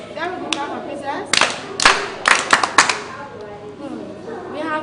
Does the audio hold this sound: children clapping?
yes